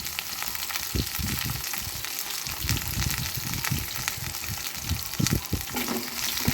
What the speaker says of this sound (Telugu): పచ్చివాసన పోయే వరకు ఉల్లిపాయలని కాస్త మగ్గనియాలి